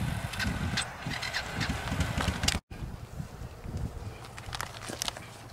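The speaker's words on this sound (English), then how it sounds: "We're gonna use this tractor here, hopefully to help us set that pole up." A tractor engine runs steadily outdoors during flag pole setup, a low rumbling idle with wind and scattered handling noises and footsteps mixed in, fairly close throughout.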